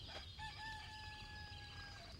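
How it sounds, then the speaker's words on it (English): A rooster crows once, a clear drawn-out call with a rising start and a long sustained tone, heard over a steady low background hum in a quiet outdoor-like setting. "roosters let you know that"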